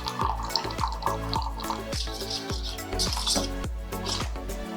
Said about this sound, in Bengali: এবার এর মধ্যে দেব সামান্য পরিমাণে জল।